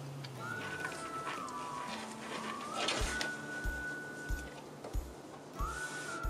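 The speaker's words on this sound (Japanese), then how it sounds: "この縫い止まりから縫い止まりまで3ミリの幅でミシンをかけます" A sewing machine stitching a 3 mm seam on fabric for a wire-frame pouch, running in short bursts of rapid mechanical whirring with regular low thumps, close and moderately loud against a quiet room hum.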